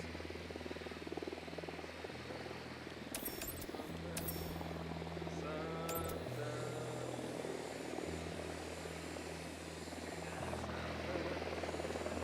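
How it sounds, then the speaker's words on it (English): A helicopter in the video game Ghost Recon Wildlands, a steady low rotor drone and hum running throughout at moderate level, with brief sharp game noises over it. "I can hear the helicopter."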